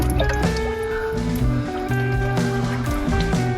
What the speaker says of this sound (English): This is draining back from the actual drain in the wall.